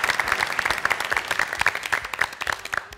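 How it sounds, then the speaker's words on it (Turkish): Studio audience on a Turkish family game show applauds the national karate team, a dense steady burst of many hands clapping at close range for about three seconds before fading. "Kocaman bir alkış hepsine."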